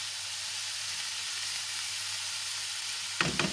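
Carrot and cabbage hit hot oil in a pan for a stir-fry, making a continuous hiss that turns into a louder burst of crackling sizzle near the end.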